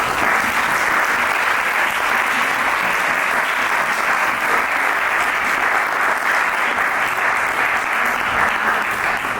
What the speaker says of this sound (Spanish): Pues un fuerte aplauso, por favor